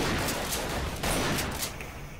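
A video game grenade explosion in Double Action Boogaloo, heard among rapid bursts of gunfire: a dense, crackling wash of shots with a sharper blast near the middle, all fairly quiet.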